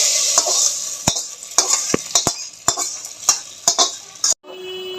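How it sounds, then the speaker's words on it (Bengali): Five-spice and bay leaf tempering sizzles in a pan for khichuri under a steady hiss, while a metal spoon stirs with a run of sharp, close clinks and scrapes before the sound cuts off abruptly. "সবার শেষে একটু 5 ফোড়ন আর একটুখানি তেজপাতা ফোড়ন দিয়ে এটা লাস্টে দিয়ে দিলাম"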